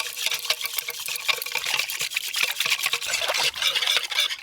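Mango lassi mix of water, sugar and black salt being stirred together in a bowl, a steady wet swishing and sloshing of liquid close up, continuous with no talking.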